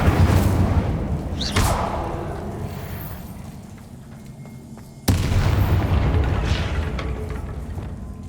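In the video game Hogwarts Legacy, the Incendio spell bursts with two deep booming blasts, each followed by a roaring, fading rumble, loud and alone.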